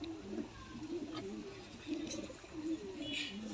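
Teddy golden Dabwale pigeons coo softly in low, repeated rolling calls, faint and close by in a quiet loft.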